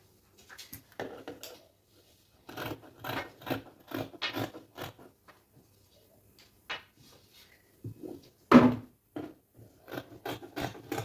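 Scissors cut through fabric for dress pieces in bursts of short snipping and scraping strokes with pauses between, fairly close and alone.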